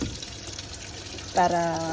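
Water pours into a Whirlpool 7.8kg LSP780GP washing machine during its final rinse fill, a low steady rush joined near the end by a brighter, louder tonal inflow, close by.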